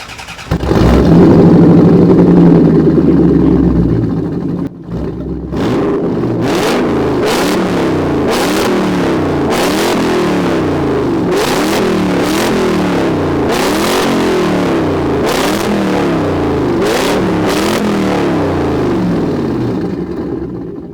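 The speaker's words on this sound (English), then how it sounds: "Now I think it is time to experience this engine in this car." A 1991 Corvette ZR-1, a C4 fitted with an aftermarket exhaust, starts with a loud idle rumble, then after a brief pause revs hard through a long run of repeated climbing accelerations, close and loud throughout.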